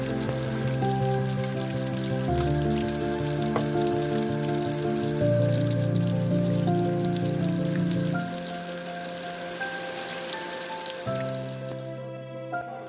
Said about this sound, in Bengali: এবার মাছগুলোকে খুব ভালো করে ধুয়ে নিতে হবে।